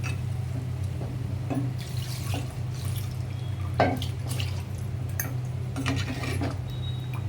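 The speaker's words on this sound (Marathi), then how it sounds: "आता मी टाकते याच्यामध्ये 1 तांब्या पाणी" Water from a jug trickles and drips into a pan, with irregular splashes and small clinks over a steady low hum, fairly close.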